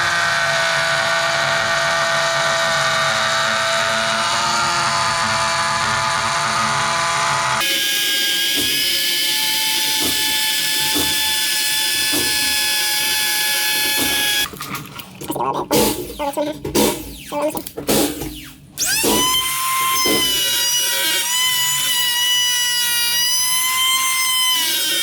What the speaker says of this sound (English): This is a trim router.